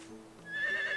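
A horse in the farming video game Harvest Moon: The Winds of Anthos gives a short whinny with a rising, bright tone, near and clear against a quiet game background.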